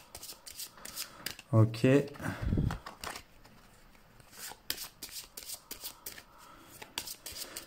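Board game cards being shuffled and mixed at a table during play of Eila et l'éclat de la montagne, a series of soft riffling and rubbing bursts, with a brief spoken word in between.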